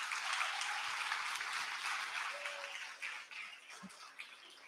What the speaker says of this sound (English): a round of applause for all of the, you know, the nominees and the award winners